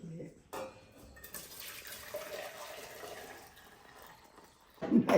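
Boiling water is poured steadily for a few seconds while making ragi idiyappam, a continuous splashing rush with a brief voice before and after.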